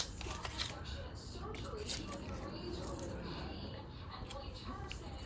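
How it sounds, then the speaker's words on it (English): Scissors cut small rectangles out of yellow post-it note paper, giving soft, close snips and papery rustling in a quiet room. Faint voice sounds sit underneath. "I'll cut out small windows. I just cut out rectangles."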